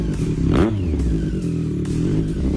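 A Triumph Street Triple RS motorcycle fitted with a titanium race exhaust revs sharply once, its pitch climbing and falling away, then settles into a steady, loud idle burble close by.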